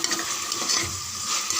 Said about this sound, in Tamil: கொஞ்சம் நல்லா வதக்கிடுங்க ஒரு 2 செகண்டு.